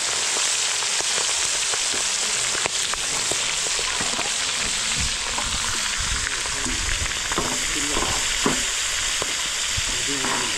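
Chunks of pork are fried and stirred in a pan, giving a loud, steady sizzle with scraping stirs all the way through, and no voices.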